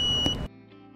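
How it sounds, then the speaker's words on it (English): An electrofusion welding machine gives a short high electronic beep near the end of its fusion time, loud and close, then cuts to a faint steady hum. "The machine will beep during the last 5 seconds of the welding time."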